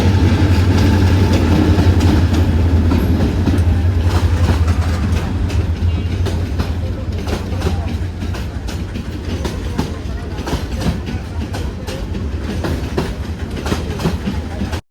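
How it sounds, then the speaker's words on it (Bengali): A train rolls past a railway crossing at Rajendrapur in the evening, loud and close, with a continuous heavy rumble and rhythmic wheel clatter throughout. "এখন এখান দিয়ে ট্রেন যাবে"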